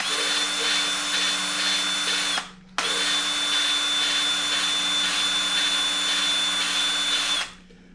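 A power drill spins a small engine valve against its seat with valve grinding compound, a loud steady whine running about two and a half seconds, a brief stop, then another five-second run that winds down.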